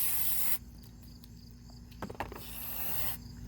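Brake cleaner sprays in two sustained bursts onto the front brake parts of a 2013 Chevrolet, a loud close broadband hiss that cuts out briefly between them, with a few metallic clicks in the gap.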